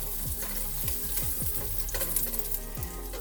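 Onions fry in a pan for Southern-style collard greens, a steady close sizzle with several quick scraping stirs over about three seconds, no talk.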